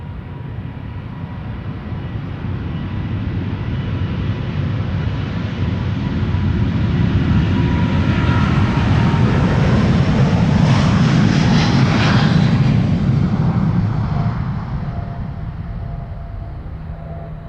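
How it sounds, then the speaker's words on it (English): A Delta Air Lines Airbus A350 takes off from Amsterdam Schiphol, its jet roar building steadily, peaking loud and close with a rising whine, then fading slowly as the aircraft climbs away. "That's an A350."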